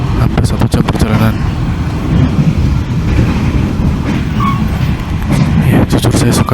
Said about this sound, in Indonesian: Ini kondisi di kereta api.